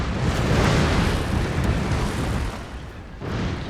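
Rockets explode in battle in the strategy game Shogun 2, a dense, roaring wash of blasts and booms layered over one another, loud and sustained with brief dips.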